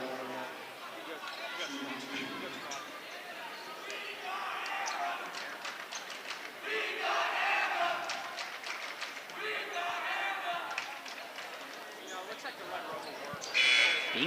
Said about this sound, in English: Bingham's crowd chanting, "We want Anna."